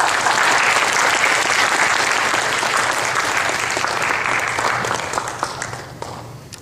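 A church congregation at a spring revival meeting applauds to welcome a speaker forward, a dense, sustained wash of clapping from many hands that holds steady and then thins toward the end.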